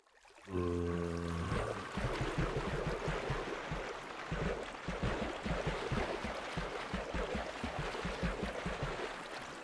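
Flowing water in the Minecraft video game, a steady rushing wash that starts after a brief tonal chime and continues loud and unbroken, with no talk.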